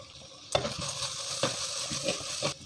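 Sliced onions with ginger-garlic paste and split green chillies sizzle softly in a pan for a cashew nut curry, while a spoon scrapes and stirs in several separate strokes; close by, with no voices.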